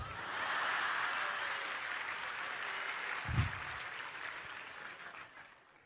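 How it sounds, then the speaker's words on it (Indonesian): A congregation at an Islamic sermon gives a soft, distant round of applause that swells early and slowly fades away, with a low thump partway through. "Kalau mau tepuk tangan, kalau ragu nggak usah."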